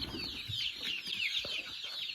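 Several chickens cluck and murmur close by in a continuous, overlapping chorus, with an occasional sharper squawk.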